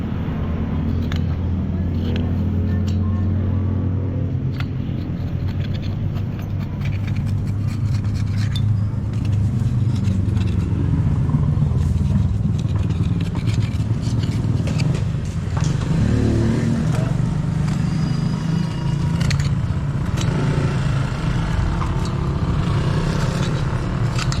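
A vehicle engine runs continuously at a steady rumble, with occasional revs, scrapes and clatter nearby; faint voices now and then.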